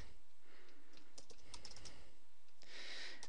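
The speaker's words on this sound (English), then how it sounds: "don't mind my typing" Typing on a computer keyboard: irregular bursts of light key clicks, close and fairly quiet, with short pauses between runs and no talking.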